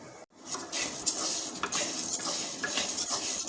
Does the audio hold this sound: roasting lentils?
yes